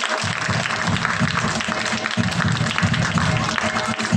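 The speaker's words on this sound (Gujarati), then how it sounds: "તાળીઓથી વધાવીએ" Audience applause at a primary school function as children are honoured on stage, steady clapping with a low hum of crowd and voices underneath.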